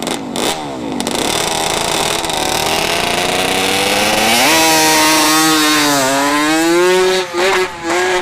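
A dirt bike on a drag strip holds a loud, buzzing engine note that climbs steadily in pitch as it nears and passes close by, then drops away near the end.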